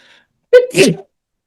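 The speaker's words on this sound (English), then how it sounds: "jeez, I have to sneeze" A single sharp sneeze, close and loud, with a quick breathy intake and then an explosive burst, surrounded by silence.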